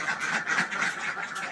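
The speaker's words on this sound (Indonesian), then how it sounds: "Inilah situasi di kandang kami" Laying ducks quack steadily in a farm pen, a dense overlapping chorus of nasal calls from a flock at close range.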